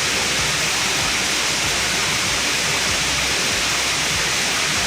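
A low-flow waterfall on a spring nature hike, giving a steady, dense wash of rushing water that fills the whole stretch without pause and without any voices.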